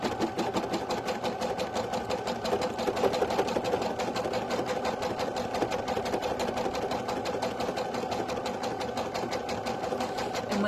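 An embroidery machine stitches a design held in its hoop, producing a continuous fast ticking hum with a steady needle rhythm, moderately loud and uninterrupted.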